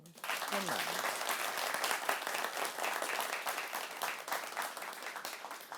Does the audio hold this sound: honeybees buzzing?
no